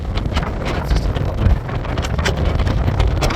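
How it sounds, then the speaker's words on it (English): Strong wind buffets the microphone on top of a railway viaduct with a constant loud rumble and gusty roar, no voices heard. "It's extremely windy."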